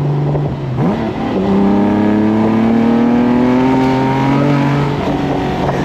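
A TVR Tuscan sports car engine accelerates hard and loud, its roar climbing steadily in pitch through a long, sustained pull with no talking.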